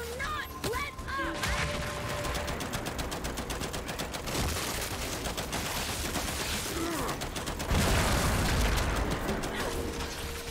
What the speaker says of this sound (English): I heard an explosion, but I did not hear a torch.